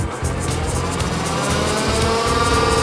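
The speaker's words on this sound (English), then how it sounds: "Fire up the press brake." A Di-Acro 17T 48-inch press brake starts up, giving a loud, constant motor and machine drone that holds steady throughout, with no speech.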